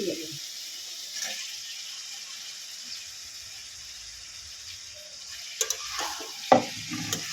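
Pre-fried flat beans and potatoes going into a masala that has been cooking in released oil: a soft steady sizzle, then sharper stirring clatters and scrapes toward the end.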